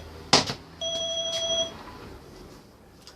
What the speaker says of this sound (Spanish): La alarma.